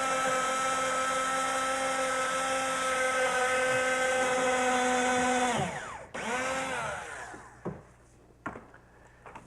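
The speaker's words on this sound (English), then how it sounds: "I want to drill a pilot hole through here." A power drill boring a pilot hole through layered material: a loud, steady high-pitched whine that holds for several seconds, then spins down, followed by a few short knocks and scrapes nearby.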